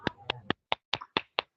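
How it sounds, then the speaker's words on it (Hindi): Seven sharp, evenly spaced hand claps over about a second and a half, loud and dry, as children clap for a student in an online class, with no voices over them. "सारे बच्चे फिर से अपने स्पीकर खोल के माही के लिए जोरदार ताली बजा दो भाई"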